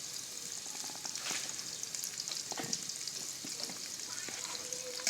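Onion, whole spices and green chili sizzle steadily in a hot pan, a close continuous frying hiss broken by occasional stirring clinks and scrapes.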